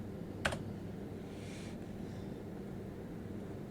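A short burst of keystrokes on a computer keyboard, a quick cluster of clicks near the start, then only low room hum with a faint soft rustle and no talking.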